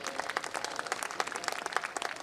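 An audience at a Hindi poetry recital (kavi sammelan) claps in a dense, fairly quiet patter of many hands, heard from some distance and continuing evenly for a couple of seconds.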